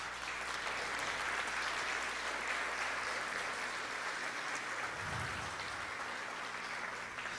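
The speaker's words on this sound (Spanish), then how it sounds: "Dale fuerte el aplauso al Señor." A church congregation applauds loudly for the Lord during a sermon on spiritual warfare, a dense, steady wash of many hands clapping that holds evenly for several seconds.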